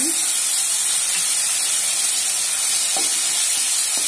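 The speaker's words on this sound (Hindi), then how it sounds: "और इसे अब हल्का भून लेना है ताकि ये अच्छी तरह पक जाए" Onions with garlic-ginger paste frying in a pan for Kashmiri dum aloo, giving a steady, close hiss and sizzle with a few faint stirring clicks.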